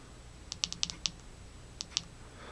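An AmuTroch X9 flashlight's side switch is clicked repeatedly, a quick burst of about six sharp, close clicks followed by two more after a pause, crisp against a quiet background.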